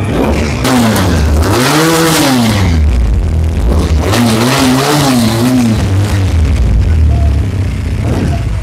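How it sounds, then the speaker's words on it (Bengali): A Pilder v4 motorbike engine idling and revving just after starting, a loud, close, throbbing mechanical drone with rising and falling revs throughout. "বাইকটা স্টার্ট দেই।"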